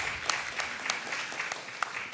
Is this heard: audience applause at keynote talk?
yes